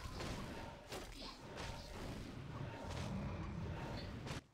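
Mortar teams firing artillery in a Warcraft III match, a series of muffled booms and thuds spread across a busy, faint battle din.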